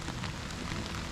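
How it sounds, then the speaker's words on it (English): Steady rain pattering on leaves and ground in a gloomy woodland, a dense, even hiss with no let-up, close and enveloping. "we have a lot of rain"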